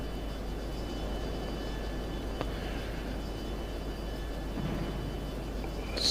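Fighter jet flying past in the video game F22 Total Air War, a steady droning engine roar with a low rumble, holding at a moderate level and swelling slightly at the end.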